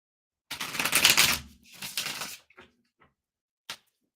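Tarot cards are shuffled by hand in a few quick riffling bursts, close and fairly soft, followed by a couple of brief taps as the deck settles.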